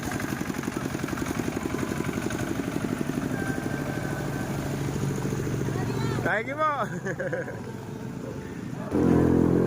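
A Rusi motorcycle engine runs with a steady, close, pulsing idle throughout, a short spoken phrase heard over it near the end.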